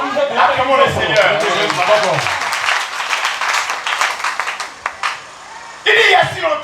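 A church congregation applauding together, a dense burst of clapping that fills the room, thins out and fades, then swells back up strongly at the end.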